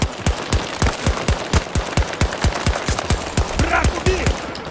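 Rapid automatic gunfire from Battlefield 2042, a steady stream of sharp shots loud and close, ending in a brief burst of other game effects, with a voice calling out in the background.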